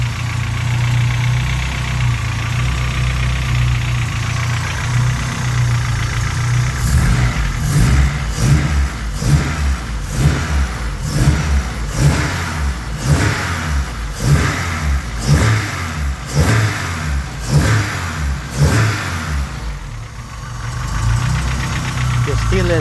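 Honda G23 engine idling with piston slap, a rapid rhythmic ta-ta-ta knocking that runs steadily over the idle hum, close and fairly loud, with a person talking over it.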